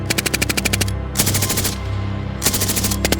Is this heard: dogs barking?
no